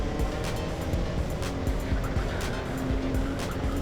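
A GX-UK racing kart driving through corners, a steady close engine drone with a rhythmic pulsing, overlaid by regular bursts of higher hiss, continuous throughout.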